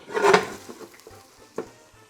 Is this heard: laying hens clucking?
no